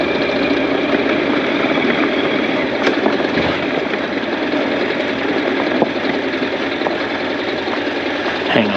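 A Honda NC700X motorcycle ridden over gravel, its engine a steady, busy drone with a rough, gritty rattle running underneath and a few sharp knocks, heard up close throughout.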